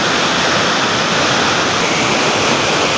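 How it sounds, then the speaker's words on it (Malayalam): The waterfall at Adimali gives a loud, unbroken roar of water pouring downward, a dense, steady rushing wash heard close and alone. "ഇവിടെ വെള്ളം താഴോട്ട് ഇങ്ങനെ ഒഴുകുന്നത്."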